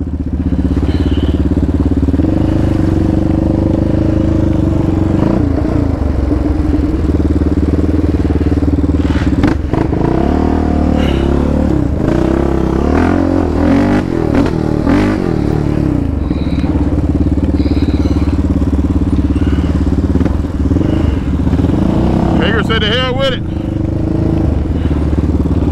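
Yamaha Raptor 700 ATV engine running steadily while riding, a loud continuous motor drone with rattling and clatter throughout.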